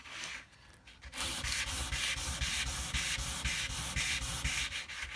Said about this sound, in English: you can just rest the sandpaper on the edge of your soft bench here